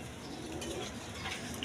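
Pigeons cooing at a pigeon seller's, soft low coos close by over a dense, steady background murmur.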